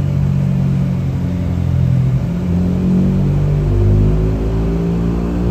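A Yamaha Y15 motorcycle engine on a dyno during an overhaul and upgrade, a loud steady droning rumble whose pitch climbs in stepped gear-like sweeps across the run, close and continuous with no talking.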